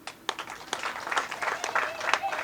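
An audience at an FDC political gathering breaks into a scattered round of clapping that builds into steady applause, with a voice talking over it.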